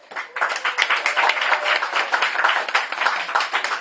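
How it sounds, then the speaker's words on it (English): An audience at a Brighton show gives a round of applause for two performers, dense clapping that starts abruptly and carries on loud and steady for several seconds. "can we have a round of applause please again for Pat and Cliff"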